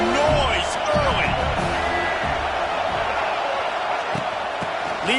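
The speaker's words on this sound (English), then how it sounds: "This crowd bringing the energy and noise early." Broad, steady roar of a stadium crowd at a college football game between USC and Michigan State, loud and continuous with scattered shouts and whoops, under a commentator's talk.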